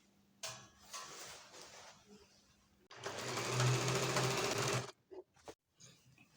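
A sewing machine stitches two pieces of fabric together with a half-unit seam allowance for a child's strapped dress, whirring in a short burst and then a longer steady run, with handling clicks around it.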